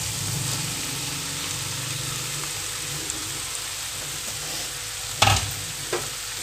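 Cooked rice being stirred into masala potato in a pan for a kids' lunch box dish, a steady soft scraping and sizzle throughout with a sharper clatter of the spoon near the end.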